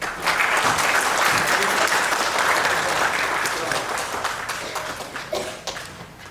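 Students applaud together in a hall: a dense, steady burst of clapping that fades slightly toward the end, with a few voices mixed in.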